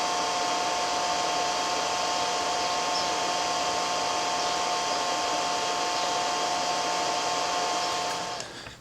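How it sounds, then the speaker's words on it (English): Steady, loud whooshing roar of air blown into a blacksmith's forge fire while heat-treating a knife, with a constant tone throughout before cutting off at the end. "I'm going to blow just a little bit of air to it here, just to keep it nice and hot."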